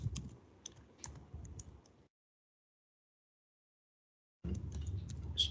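Tapping on a computer keyboard while typing SQL code, soft close key clicks in short irregular runs that stop for a couple of seconds of silence, then resume.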